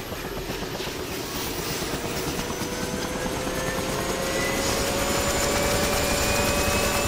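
A helicopter in Arma 2 runs steadily, its rotor chop and turbine whine close and continuous, slowly rising in pitch and loudness, with no talk.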